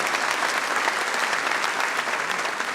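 An audience at a live comedy show breaks into dense, sustained applause, loud and even throughout, with no voices standing out above the clapping.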